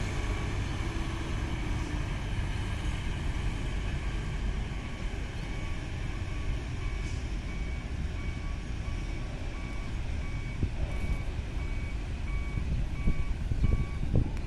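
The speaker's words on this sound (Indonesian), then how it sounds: "Lihat ya, mobil pribadi banyak yang disuruh mundur." Steady electronic reversing beeps from vehicles backing up at the Bakauheni port entrance, repeating at an even pace over a constant low rumble of idling engines and traffic, with no one speaking.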